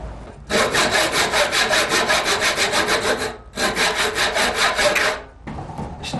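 Handsaw cutting wooden pieces, small pegs for a handcrafted bargueño cabinet, in two long, loud runs of rapid, even back-and-forth strokes separated by a brief pause, followed by a short, quieter rasp.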